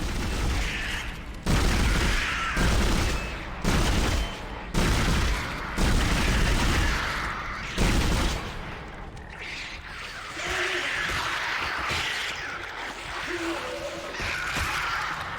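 Pulse rifle firing in the Dead Space video game, several loud bursts of automatic fire separated by short gaps, then quieter combat noise as the shooting drops off.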